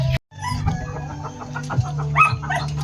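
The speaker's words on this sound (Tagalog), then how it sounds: "These are my chickens." Several broiler chickens cluck and chatter close by in a yard, a quick busy stream of clucks and squawks over a low background hum.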